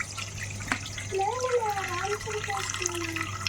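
Water from rinsed dal and rice being poured off into another vessel, a steady close splashing pour lasting a few seconds, with a faint voice-like tone and a low hum running underneath.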